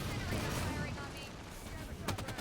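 Dense gunfire from the video game Halo 5, a loud continuous roar of shots with a short burst of sharper cracks near the end, heard alone.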